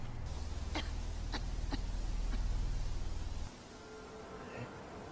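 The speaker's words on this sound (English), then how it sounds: "That wasn't his friend coughing." Coughs come from someone in a horror video game, four or five quiet, evenly spaced coughs over a low droning background rumble that later drops away into faint hiss.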